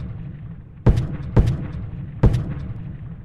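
An artillery bombardment booms three times in quick, uneven succession, each a sharp heavy blast over a low rumbling background; no talk.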